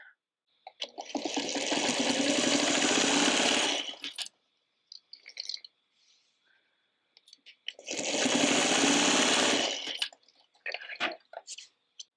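A sewing machine stitches a fabric bowl cozy in two sustained runs, close and loud. Between them, quiet pauses are broken by small clicks and fabric-handling sounds.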